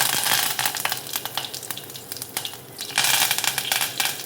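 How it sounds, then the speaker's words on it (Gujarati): Rapid, sharp popping and crackling of mustard seeds in hot oil with cumin, asafoetida and curry leaves, dense irregular bursts that surge louder near the end. "હવે બધી રાઈ ફૂટી જાય"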